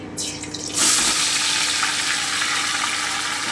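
Marinated chicken dropped into hot oil in a pan, giving a sudden loud burst of sizzling that settles into a steady, close frying hiss, with no talking.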